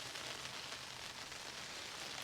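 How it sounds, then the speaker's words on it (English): Steady rainfall hissing evenly on surfaces, a constant wash of fine droplets with no voices, fairly quiet and unbroken throughout. "it's actually raining quite a bit at the minute"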